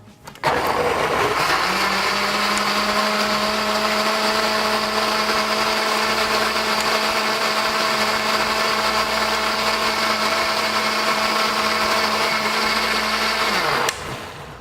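A blender on its liquefy setting whirring through a strawberry fruit smoothie, a loud steady motor drone that spins up and runs unbroken for about twelve seconds before cutting off.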